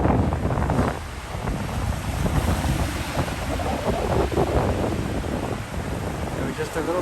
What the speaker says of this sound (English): Look at those waves crashing in.